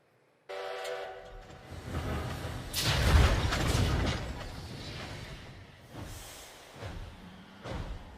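A train in a movie scene rumbles past with a horn blast, rising to a loud roar in the middle and then fading, with a couple of later surges.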